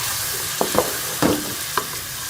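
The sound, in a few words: onions and tomato paste frying in a pan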